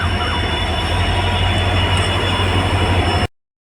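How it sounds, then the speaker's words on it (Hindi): A train pulls into a station in Hojai, a loud, steady rumble of rolling wagons up close that cuts off abruptly, with no speech. "और अभी ट्रेन भी आ चुका है यहाँ पे।"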